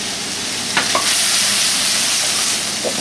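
White parts of scallions fry in a hot pan, giving a loud, steady hissing sizzle with a couple of brief stirring clicks near the start.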